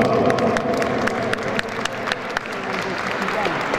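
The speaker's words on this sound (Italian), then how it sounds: "hanno fatto l'applauso loro." Audience at a pop tenor's end-of-year concert applauding, a steady spread of clapping under a lively crowd murmur, fairly close and moderately loud.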